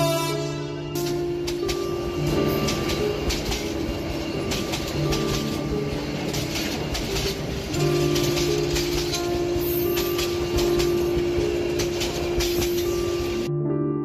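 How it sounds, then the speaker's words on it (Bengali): A train arriving, with a sustained horn-like tone that rises and falls, a rumbling rail background and faint metallic clinks throughout, continuous and fairly loud. "হঠাৎ ট্রেনের পোপো শব্দে আমি উঠে দাঁড়ালাম।"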